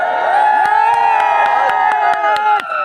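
A meeting audience claps and cheers loudly, with the dense crowd noise filling the whole stretch and sharp claps cutting through a droning, chant-like roar.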